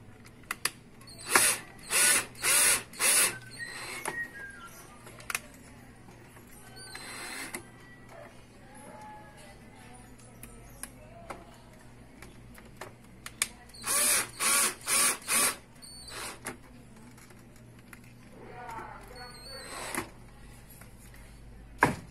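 A power drill drives two small screws while a Bluetooth module is fitted to a home sound system, heard as two clusters of short, whirring bursts separated by quieter handling and clicking, close and clear.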